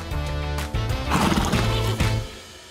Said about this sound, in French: Comment il s'appelle ce cheval?